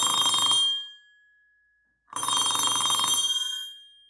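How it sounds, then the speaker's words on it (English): Two bursts of metallic ringing from a laser-cut steel sound effect wheel replicating an old radio effect, each sharp strike ringing briefly then decaying, with a clear gap before the second strike. "Do you hear that echo?"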